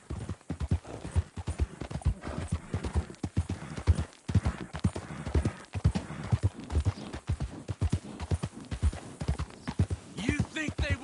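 Horse hooves clip-clopping at a steady walking rhythm in the Red Dead Redemption 2 video game, running continuously beneath close, ongoing dialogue between two men.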